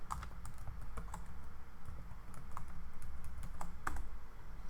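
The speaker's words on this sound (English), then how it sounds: "So type in our credentials here." Typing credentials on a computer keyboard: soft, irregular key taps close by over a low steady background hum.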